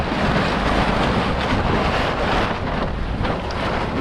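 Strong wind at a seaside moto camping site in Lobo, Batangas, roaring steadily across the microphone as a loud continuous rush with gusty swells and no voices.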